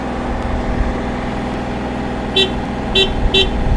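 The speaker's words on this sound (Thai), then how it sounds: "ถ้าเสียงเครื่องยนต์นะครับ" A Komatsu PC30MR-1 excavator's diesel engine idles steadily with a deep rumbling drone, close and constant, with a few short high beeps near the end.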